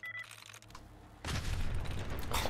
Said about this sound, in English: I think the explosion is... blurring my vision a bit